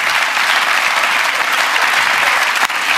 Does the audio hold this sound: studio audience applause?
yes